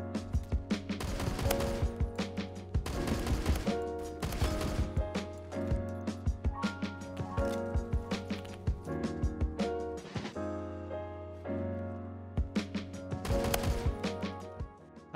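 An AA-12 automatic shotgun fires in the Phantom Forces game, a loud, close series of rapid blasts in bursts with brief pauses, mechanical reload clatter between volleys and a steady low hum underneath.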